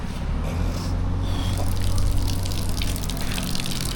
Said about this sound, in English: Shower off the feet.